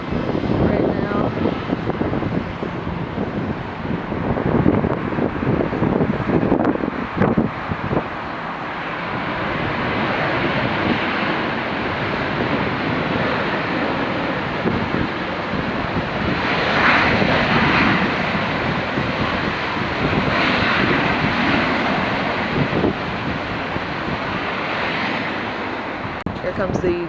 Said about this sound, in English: we got a Southwest 737-800 landing right now